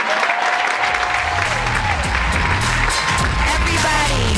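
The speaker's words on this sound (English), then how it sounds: "Everybody, please continue to give a round of applause" Audience at a live show applauds and cheers loudly while a keyboard-backed tune plays underneath, steady dense clapping with some whoops mixed in.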